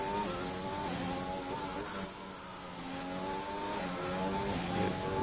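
Formula 3 race cars circle the Singapore street circuit in a sim racing game, engines droning and shifting pitch steadily as cars run close together, a continuous moderately quiet whine with no voices.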